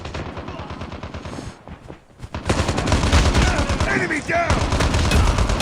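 Machine gun fire in Call of Duty Mobile: dense, rapid automatic bursts rattling loudly and close, a brief lull, then heavy sustained fire with overlapping shots, while game voice callouts are heard.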